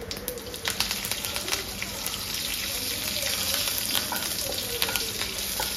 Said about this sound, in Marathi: मोहरी छान तडतडली की त्याच्यात आपण कढीपत्ता घालून घेणार आहोत।